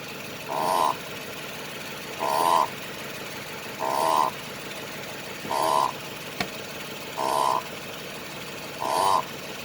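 Six regular clunking knocks from a Lexus LS460's worn lower suspension arm repeat about every second and a half over a low engine hum, with no talking.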